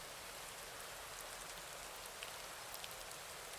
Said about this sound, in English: But here comes the rain. So this is sort of light or even just normal rain at the moment.